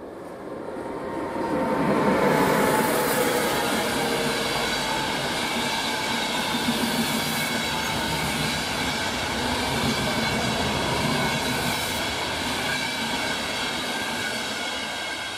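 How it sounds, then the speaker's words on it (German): A Eurocity passenger train running from Bologna to Munich rolls past near Innsbruck, a steady rumbling rush with rail squeal that builds after the first two seconds and holds loud and continuous throughout, with no voices. "Eurocity von Bologna nach München."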